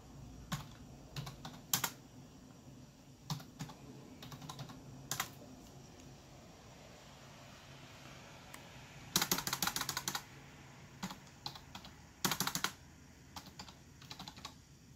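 Keyboard typing with scattered clicks and short bursts of rapid keystrokes, plus a couple of louder clattering flurries, close and clear.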